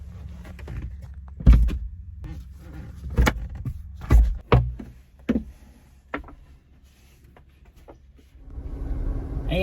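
Roof panels are unlatched and lifted off a Ford Bronco Raptor, with a series of sharp close clunks and thumps from the latches and panels separated by quiet gaps, then a rising rustle at the end.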